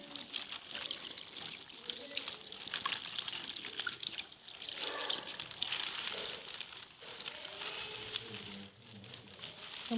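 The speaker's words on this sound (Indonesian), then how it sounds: "Lalu cuci tangan di bawah air mengalir" Steady patter of running water, like a tap splashing onto hands, continuous and close with faint background voices.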